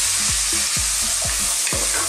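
Bacon sizzling over high heat with thyme and smoked paprika, a loud, dense hiss broken by a rhythmic series of spoon or spatula stirs scraping the pan about every half second.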